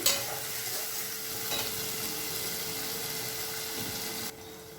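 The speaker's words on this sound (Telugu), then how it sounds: "ఇది చక్కగా ఆయిల్లో బాగా మగ్గాలండి" Onion, tomato and cashew paste frying in oil in a pan, with a steady close sizzle and light stirring scrapes that run for several seconds before cutting off abruptly near the end.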